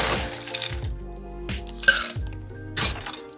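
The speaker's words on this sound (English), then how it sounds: "And now we're gonna add some ice to our cocktail" Ice cubes clink and knock into a glass for a pisco cocktail, several sharp separate clatters spread over a few seconds, close and bright.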